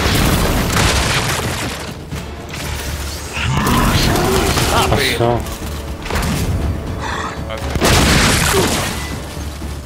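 Dropshot weapon in Gears 5 firing and exploding, with heavy booms and mechanical thumps repeating amid constant game noise while someone talks over the action.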